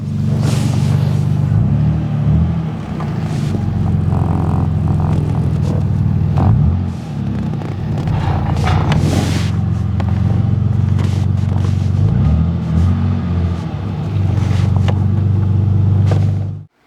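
A car rumbles steadily onto LiftMotive low-profile ramp extensions, its engine a constant low drone with faint scraping and shifting, close by throughout.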